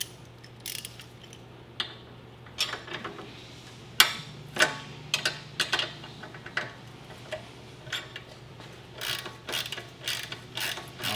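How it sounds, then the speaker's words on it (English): Wrench loosening the ball joint clamp bolt on a Tesla Model 3 suspension, heard as irregular ratcheting clicks and metallic ticks over a steady low hum, close by with no talking. "You just undo this bolt, which clamps around the ball joint and allows you to slide it right off"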